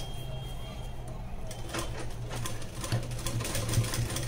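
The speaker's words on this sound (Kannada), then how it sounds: "ಈ ಥರ ಸ್ಟಿಚ್ ಹಾಕಿ ನಡೆಯುತ್ತೆ" A sewing machine runs steadily while stitching a zip onto a blouse, a continuous close mechanical whirr with fast rattling needle strokes that grow a little louder toward the end.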